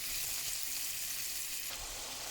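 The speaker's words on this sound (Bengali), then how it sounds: "পেঁয়াজ রসুনটাকে আমি একটু ভেজে নিলাম" Onion and garlic frying in a pan for a Bengali egg curry, a steady close sizzle with soft crackle throughout and no voices.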